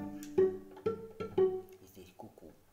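A cello plays a few short phrases of the old English piece "Cuckoo", with plucked or bowed notes rising and falling over under three seconds, fairly quiet and close.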